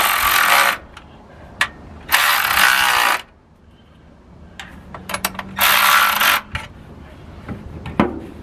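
A hand ratchet tightens valve cover bolts on a 1963 Chevy C30 truck, with three bursts of rapid, loud clicking separated by quiet pauses and small metallic taps.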